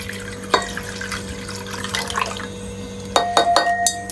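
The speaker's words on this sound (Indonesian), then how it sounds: "Masukkan air yang telah berisi es batu ke dalam bejana kaca." Ice water poured into a glass vessel for a classroom science experiment, with a few splashy pours and clinking bursts near the end over a steady faint hum.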